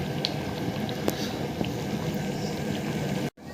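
Paneer butter masala gravy with fresh cream bubbling on the stove, a dense, close, continuous burbling boil with small pops, cutting off abruptly just before the end.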